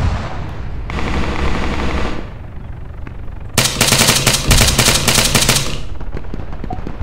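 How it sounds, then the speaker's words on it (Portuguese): Two bursts of rapid automatic gunfire in the video game ArmA 3, a shorter volley followed by a louder, longer one, with a continuous low rumble underneath. "Negri, agora a pergunta é, por onde veio esse tiro?"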